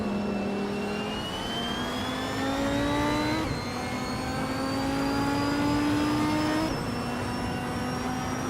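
A 2003 Panoz LMP01 Roadster S race car in a racing game holds a loud, steady engine drone that climbs in pitch through each gear, with two quick shift drops and no talk.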